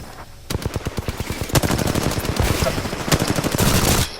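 Rapid automatic gunfire from the video game Apex Legends rattles in loud, close bursts that run almost continuously after a brief quiet start, with a few heavier shots mixed in.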